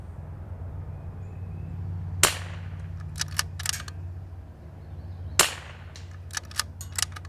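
Two sharp rifle shots of practice ammunition from a rifle in an L3I HYVE precision chassis crack out a few seconds apart at an outdoor range, each followed by a brief echo and some small clicks and handling noises between them.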